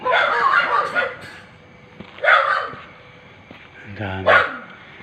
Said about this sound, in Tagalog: Daming aso dyan.